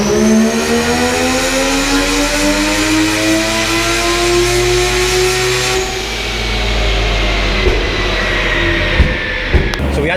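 A tuned 20B three-rotor rotary engine on a dyno pull, revving up in a loud rising howl with buzzy harmonics, then dropping off and settling with some talk over it.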